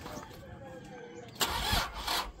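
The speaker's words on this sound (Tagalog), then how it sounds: "Nakaya niya mag-start." A car engine cranks and catches with help from a portable jump starter that also serves as a tire inflator, a short starting burst followed by uneven running, close by, with voices talking around it.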